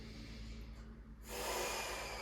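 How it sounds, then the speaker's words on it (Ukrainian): A deep breath drawn in during a gentle abdominal exercise: a steady, close breathy rush that swells sharply about halfway through and holds strong to the end, with no talking. "Увага, вдих."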